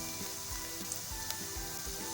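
Sliced onions softening in a pan give a soft, continuous sizzle with faint crackles, quiet and close, with no talking.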